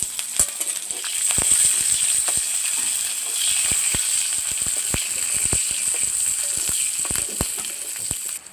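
Black cumin, garlic, dried red chillies and green chillies frying in hot oil, a close, continuous bright sizzle broken by frequent sharp clicks and taps of stirring.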